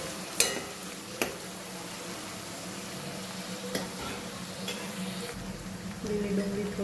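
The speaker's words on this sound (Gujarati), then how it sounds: "થોડીક વાર હવે ડુંગળીને થવા દઈએ." Green onions sauté in a pan with a soft, steady sizzle and stirring, broken by a few sharp utensil clicks against the pan; fairly faint and with no talking.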